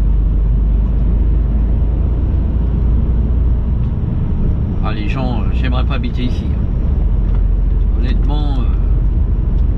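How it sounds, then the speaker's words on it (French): Heavy trucks rumble past steadily at a busy crossroads near a red light, a loud continuous low roar of passing traffic throughout, with someone talking over it partway through. "avec tous les camions qui passent ici, ça doit être infernal"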